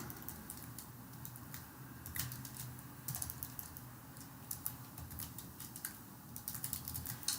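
Fingers tap quickly on a computer keyboard while entering an email address, an irregular run of soft, close key clicks with brief pauses and no talking.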